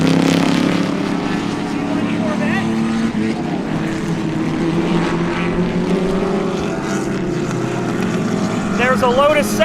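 A vintage Chaparral race car at Sebring during an SVRA vintage race, a loud engine roar sweeping past with shifting pitch, while people talk excitedly nearby.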